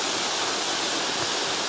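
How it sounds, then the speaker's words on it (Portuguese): Steady broadband roar of Cachoeira Gonzaga waterfall, a continuous rushing wash of falling water heard close and loud, with no voices. "Você sabe que essa cachoeira chama Cachoeira Gonzaga?"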